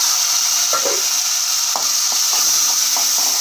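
Onions and green chillies sizzle steadily in a hot tempering pan after curry leaves, a constant bright frying hiss with a few soft stirring clinks, close and without talk.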